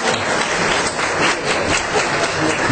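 Applause from an audience at a church summer retreat lecture hall, a steady, dense wash of clapping that stays loud and even from start to finish, with no voices on top.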